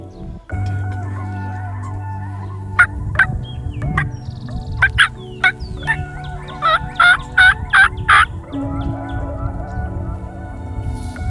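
Wild turkeys gobble at dawn by a river on Iowa public land, several loud rolling gobbles in a quick series among other clucks and bird calls, close and clear.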